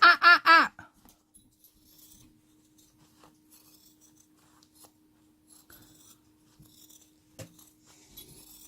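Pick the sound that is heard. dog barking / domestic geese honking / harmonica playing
dog barking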